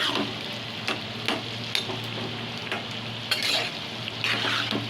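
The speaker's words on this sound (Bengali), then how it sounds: "সেদ্ধ করে রাখা আলু আর মটরটা আমি দিয়ে দিচ্ছি তরকারির মধ্যে দিয়ে ভালো করে মিশিয়ে নিচ্ছি" Chicken ghugni with boiled potatoes and peas is stirred in a hot pan, giving a steady sizzle broken by scattered spoon scrapes and clinks against the metal, close and continuous with no talk.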